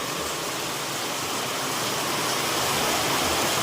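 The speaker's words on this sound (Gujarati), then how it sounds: "વરસાદ જોવો ખાલી" Sudden heavy rain falling on a farm in Gujarat, a steady, loud, broadband hiss that is unbroken and swells slightly toward the end, with no voices.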